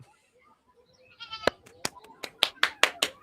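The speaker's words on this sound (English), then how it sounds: "Let's go see the goats now." Farm animals, likely goats, bleat in a quick run of about six or seven loud, close calls after a quiet start, each a short nasal cry, with no talking.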